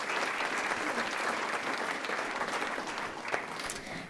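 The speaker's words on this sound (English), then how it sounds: "So let's give Alex a round of applause." An audience at a school district board meeting gives sustained, even applause that holds steady for several seconds, filling the room without any speech.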